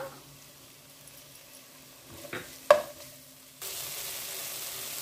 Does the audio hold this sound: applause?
no